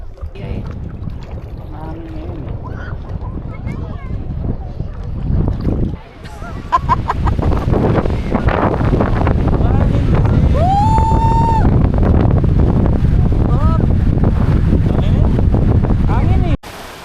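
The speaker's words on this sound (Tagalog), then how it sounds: "Ang lakas ng hangin." Strong wind buffets the microphone in loud, continuous gusts outdoors in Kananaskis, Canada, with voices talking over it and a brief drop in the roar partway through.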